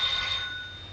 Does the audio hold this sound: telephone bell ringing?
yes